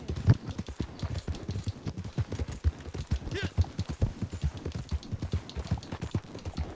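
Horse hooves clip-clop steadily in a rhythmic gait while riding through Red Dead Redemption 2 toward the town of Valentine, moderately loud and close, with no talk over them.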